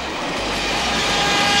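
A crowded passenger train travels south toward Agra in India, a loud, close rolling rumble with clacking that swells slightly louder as it runs.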